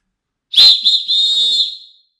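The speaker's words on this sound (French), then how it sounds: "Ça siffle vraiment fort, c'est ce que on utilise dans les stades, hein, les arbitres et tout ça" A referee-style whistle, the kind used in stadiums, blasts once sharply and very loudly, close up, then holds a steady piercing tone for about a second before fading out, with no other sounds.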